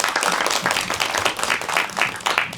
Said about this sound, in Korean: 박수로 앞으로 모시겠습니다